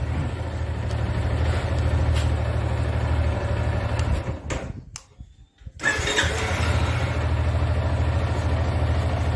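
A freshly rebuilt Yamaha Fazer 250 motorcycle engine runs at a steady idle with a loud, close mid-pitched drone. It cuts out briefly for about a second and then picks up again.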